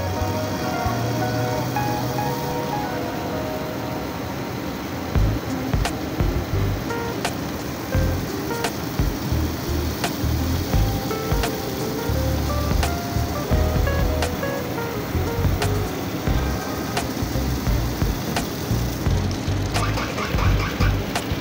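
A booster water pump starts up after a steady mechanical hum, then runs with repeated rhythmic surging pulses and sharp clicks, loud and close, with no talking.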